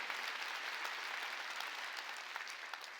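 Church congregation applauding during a Wednesday worship service, a steady, dense wash of clapping hands sustained evenly throughout, moderately distant with no voices on top.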